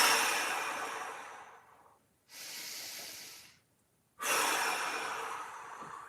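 Slow, deliberate breaths during a low-back mobility exercise: a long hissing exhale, a pause, a shorter breath, another pause, then a strong inhale, close and fairly loud with no talking.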